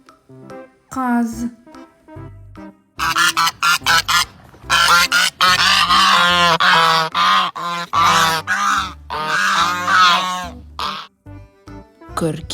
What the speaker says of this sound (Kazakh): қаз